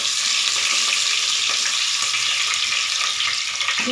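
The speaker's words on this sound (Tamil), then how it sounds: "சட்டி வச்சு எண்ணெய் ஊற்றிருக்கேன். எண்ணெய் காஞ்சிருச்சு. கடுகு கூடவே கடலைப்பருப்பு. கடுகு பொரிஞ்சிருச்சு." Mustard seeds and chana dal sizzle and crackle in hot oil in a pan, a loud, dense, steady frying hiss that holds for the whole stretch.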